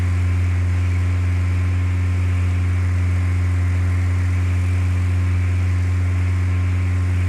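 A light airplane's engine in Flight Simulator 2004 drones at steady power during slow-flight practice near 100 knots, a loud, unbroken, even hum with no speech.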